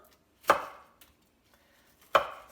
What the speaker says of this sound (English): So just chop up a little bit of tomato